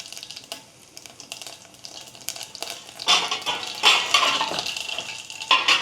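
Cookware clatters, then a loud hiss of sizzling rises and holds as mixed vegetables are tempered in hot oil, close and steady with occasional metallic knocks.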